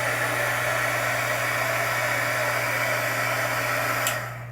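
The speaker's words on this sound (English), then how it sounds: "But you can hit the back of it with your heat tool." A heat tool blows steadily on stamped watercolor paper, a loud continuous hair-dryer-like whoosh with a low hum that cuts off near the end.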